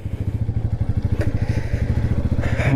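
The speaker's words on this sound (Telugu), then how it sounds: "మన న్యూ బైక్ ఇది, రాయల్ ఎన్ఫీల్డ్" A Royal Enfield motorcycle engine runs near and loud, thumping in a steady, even single-cylinder beat throughout, with light clatter on top.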